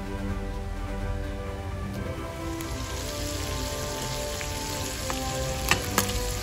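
Calamari frying in a pan gives off a steady, close sizzle and crackle with a few louder pops near the end, plus a faint background hum and no talking.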